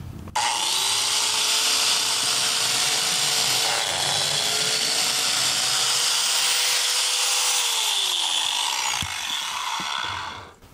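Biscuit joiner plunging a shallow slot into a small wooden board at its lowest depth setting: a loud, steady high motor whine with cutting noise for about nine seconds, then the motor spins down and stops. No talking.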